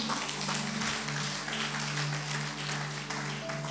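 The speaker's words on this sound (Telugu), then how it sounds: "గట్టిగా చప్పట్లు కొడదామా?" A church congregation claps during a sermon; the applause is fairly quiet and mixed with sustained keyboard-like tones held underneath.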